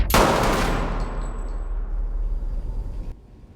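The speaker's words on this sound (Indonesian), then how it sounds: "Dengan cepat, Ishak langsung melesatkan 2 tembakan." A loud gunshot cracks at the start, followed by a long echoing decay that fades over a few seconds.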